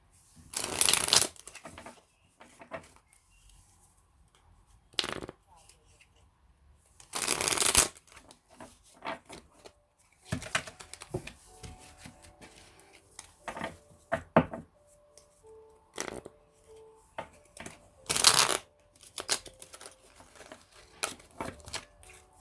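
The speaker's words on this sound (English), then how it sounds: "I'm just going to cut these ones in half" A deck of tarot cards is shuffled and cut by hand. Several sharp riffling bursts stand out among softer slides, taps and card handling, close up and with no voices.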